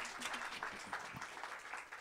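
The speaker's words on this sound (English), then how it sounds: "Amen. Let's clap." A church congregation claps steadily for a couple of seconds, a dense patter of hands at moderate distance, fairly soft overall.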